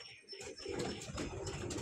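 An old-generation Madrasi pigeon coos softly at close range in a loft, brief low cooing notes with faint background noise.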